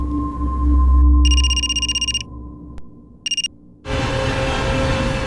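A telephone rings with a bright electronic ringtone: a burst of rapid pulsing tones, a short pause, then a brief second burst before it cuts off into background noise.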